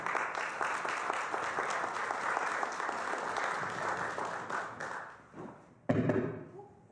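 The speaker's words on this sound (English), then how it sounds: "can we get a round of applause, please, for Amber?" An audience at a community speaker series event claps steadily for about six seconds, a moderate dense applause that tapers off, followed by a sudden loud thump.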